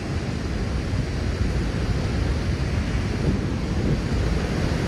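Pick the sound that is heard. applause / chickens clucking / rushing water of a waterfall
rushing water of a waterfall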